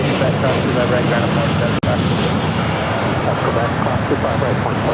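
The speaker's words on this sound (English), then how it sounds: "This is Latam Airlines 87 taking off to Sao Paulo, Brazil on the 787-9 Dreamliner." A LATAM Airlines Boeing 787-9 Dreamliner takes off, a steady broadband jet roar holding strong throughout with one brief dropout partway, voices audible in the background.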